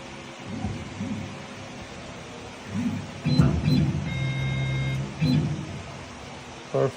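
A Langmuir MR 1 CNC machine with an upgraded Y-axis and Stepperonline DM860T digital stepper drivers moves its axes, giving several loud bursts of droning, whining motor hum with steady tones and brief pauses in between.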